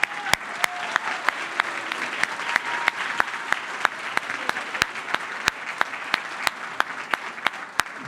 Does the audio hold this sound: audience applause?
yes